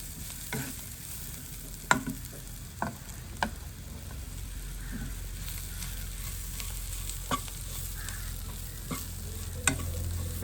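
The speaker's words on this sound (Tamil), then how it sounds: "இப்போ நல்லா எல்லாத்தையும் நல்லா கலந்து போட்டு நாங்கள் வறுக்க துவங்குவோம்" A Jaffna-style prawn masala mixture frying in a pan, a quiet steady sizzle punctuated by periodic sharp taps and scrapes of the spatula stirring, no voices.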